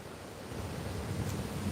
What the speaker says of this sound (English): the wind is very high today